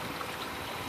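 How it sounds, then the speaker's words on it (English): Water mixed with mycorrhizae is poured onto a potted plant, giving a brief, steady, close splashing trickle with no voices. "I'm going to mix the mycorrhizae in water and water this plant"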